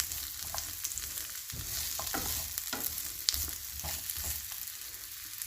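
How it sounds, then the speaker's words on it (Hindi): Pickle ingredients fry lightly in mustard oil, a steady broadband sizzle with a string of stirring scrapes and clicks from the spoon, close and continuous with no talking. "इनको हल्का सा फ्राई करना है और ये सरसों के तेल में फ्राई कर रही हूँ"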